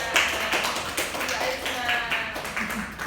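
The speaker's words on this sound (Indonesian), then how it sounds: "Kita beri tepuk tangan" A classroom of students clapping during a microteaching lesson, a brief burst of scattered hand claps mixed with talking voices.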